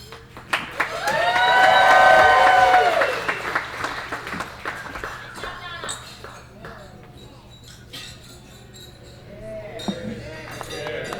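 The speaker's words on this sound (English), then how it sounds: "How about another round of applause for Mr. Chin?" Wedding reception guests burst into applause after a toast, clapping swelling loudly then fading into scattered claps, glass clinks and murmuring chatter.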